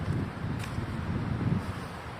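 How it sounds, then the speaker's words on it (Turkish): Steady wind gusts buffet the microphone at a lakeside picnic area in Tosya, a low rumbling rush with faint rustling, continuous throughout the short stretch. "Hava bayağı bir rüzgarlı."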